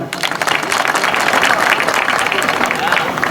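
An audience at a Telugu religious gathering breaks into loud, dense applause that holds for the whole stretch, with a voice or crowd noise mixed underneath.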